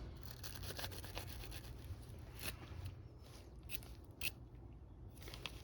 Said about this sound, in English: let's clean up these threads of the sealant stuff